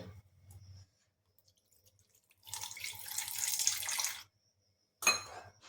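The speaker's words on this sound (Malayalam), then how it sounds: "കുറച്ച് പാലാണ് നമ്മളിതിൽ ഒഴിക്കുന്നത്" A short stream of milk pours steadily into a bowl for about two seconds, followed by a brief splash, with quiet pauses between.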